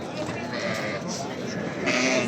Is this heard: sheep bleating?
yes